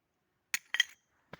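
Glass bottles from Soviet and Austrian times clink against each other as they are dug out of an old rubbish dump in Poland. Three short, bright knocks come close up, with a small pause after the first and one more clink a moment later.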